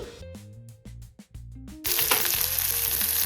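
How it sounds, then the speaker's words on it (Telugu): Sliced onions and green chillies hit hot oil with dried red chillies already in it: a few clinks and knocks, then a sudden loud, bright sizzle that keeps crackling steadily. "ఉల్లిపాయలు, పచ్చిమిర్చి బాగా ఫ్రై అవ్వాలి."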